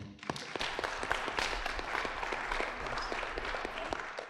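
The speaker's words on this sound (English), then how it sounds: "please give a round of applause to Matthew Armstrong" Audience clapping for a presenter at a startup pitch event, moderately quiet applause with distinct individual claps standing out over a steady patter.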